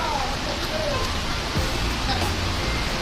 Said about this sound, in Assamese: ওপৰৰ পৰা বৰষুণ দি আছে